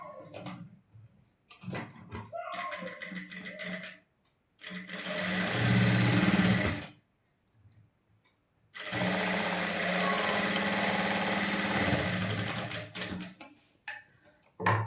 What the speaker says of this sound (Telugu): ఇప్పుడు నేను ఇక్కడ నుంచి నైస్గా కుట్టుకుంటూ వచ్చి పాదం వెడల్పు కుట్టేస్తాను